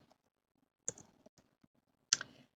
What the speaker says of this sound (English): Then I'm going to click here and type in benefits.